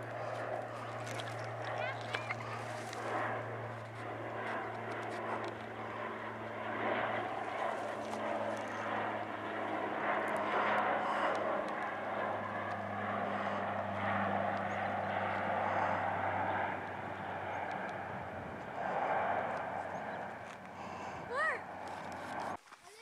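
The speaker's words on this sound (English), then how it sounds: "The plane." A propeller airplane drones overhead, a steady low engine hum that holds for most of the passage and swells slightly in the middle before fading, with people talking intermittently over it.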